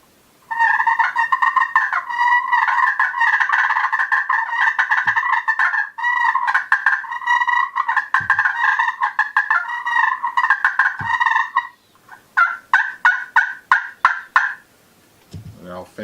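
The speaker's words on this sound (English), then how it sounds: "Basically, it's just a purr. It's just a faster purr, and you're just doing one side at a time, one hand at a time, just back and forth." A wooden-handled striker scratched quickly back and forth on a turkey slate call gives a fast, raspy fighting purr in long continuous runs, then breaks into choppier bursts near the end, loud and close.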